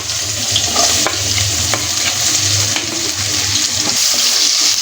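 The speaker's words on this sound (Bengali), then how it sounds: "পেঁয়াজ কুচিটা আমরা একটু নেড়ে নিব, নেড়ে ভেজে নিব।" Chopped onion frying in oil left over from frying fish, with a steady broadband sizzle and occasional scrapes and clinks as it is stirred in the pan, close and loud with no talk.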